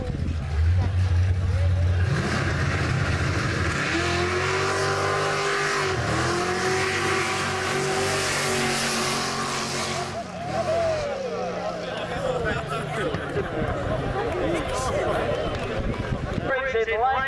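Drag racing cars at Back Beach Drags in Bunbury, engines roaring and revving loudly and continuously, with a race commentator talking over the engine noise throughout.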